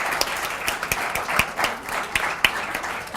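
A small audience at a literary magazine premiere claps for the magazine staff, a loose mix of individual hand claps with a few sharp close ones, uneven and moderately loud.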